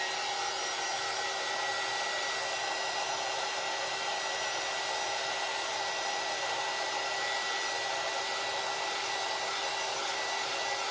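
A hair dryer blows steadily for about eleven seconds, drying fresh paint for a butterfly paint inlay; a loud, constant airy whine with a fixed motor tone and no speech.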